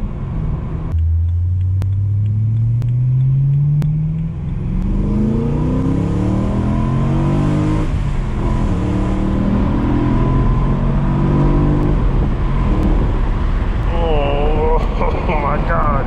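A BMW E93 M3 engine revving loud and close as it climbs through the gears while driving, with rising engine pitch, a shift, and people talking inside the car.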